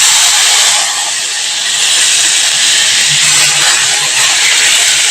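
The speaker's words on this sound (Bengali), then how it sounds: "পেস্ট করে রাখা পেঁয়াজ, লঙ্কা, রসুনটা এবার আমি এর মধ্যে অ্যাড করে দিচ্ছি।" Onion, chili and garlic paste hits hot oil with fried dried chilies in a pan, giving a loud, steady, continuous sizzling hiss that fills the whole stretch without any talk.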